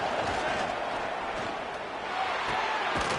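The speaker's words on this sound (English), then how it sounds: "This crowd is trying to inspire this defense to make a big red zone stop." Stadium crowd roars in a college football video game, Miami against Clemson, rising for a red zone defensive stand; a steady, dense wash of cheering and noise fills the whole stretch at even loudness.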